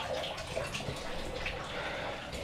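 Tap water runs in a steady, thin hiss with faint dripping textures, continuous and fairly quiet throughout, no voices.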